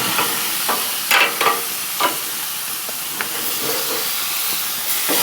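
Ham steaks sizzle and hiss steadily in a hot pan, with a few sharp scraping and clattering bursts as they are flipped over; no voices.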